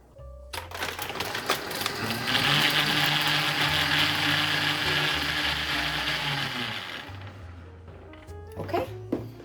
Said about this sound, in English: So I'm going to turn my blender on, and I'm going to let this froth for about 30 seconds or so.